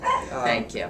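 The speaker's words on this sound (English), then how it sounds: "that was my dog" A pet dog gives a short yip and bark at close range, overlapping with people talking nearby.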